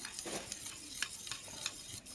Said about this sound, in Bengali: দিয়ে এটাকে আমি ভালোভাবে মশলাটা গুলে নেব